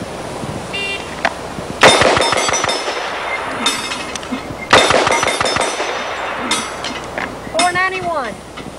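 Gunfire at a 1990 exhibition shooting show, with .45 ACP handguns firing loud sharp shots in two bursts of rapid fire, each followed by metallic clinks and ringing, with brief voices between the bursts.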